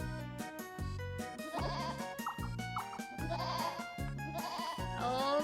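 Cartoonish sheep bleats from the Mario Party 7 video game repeat in quick succession, quiet and woven into bouncy, rhythmic game music.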